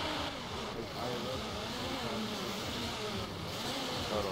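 A loud car engine revving on the street, a steady, close, heavy rumble that fills the whole clip, with voices talking over it.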